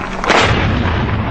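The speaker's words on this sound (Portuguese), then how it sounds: "A câmera se prepara e flagra a explosão." A suicide bomb explodes in an Iraqi street with a sudden, heavy blast that lands close and loud, then rolls into a broad, rumbling roar that fills the short moment.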